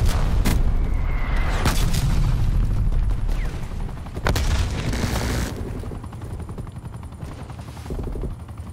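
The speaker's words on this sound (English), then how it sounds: "Incoming artillery." Incoming artillery fire in a PS4 video game, loud booming blasts and sharp cracks over a constant heavy rumble, with the barrage easing slightly toward the end.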